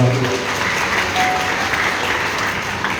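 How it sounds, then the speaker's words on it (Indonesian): A Sunday church congregation erupts in lively applause, a thick, continuous roar of clapping at steady loudness, with faint voices mixed underneath. "Boleh tepuk tangan yang paling meriah"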